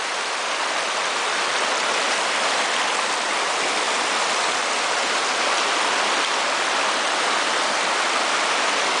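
Water of a restored brook trout stream rushing under and around rocks, a loud, constant broadband roar close by with no breaks and no voices.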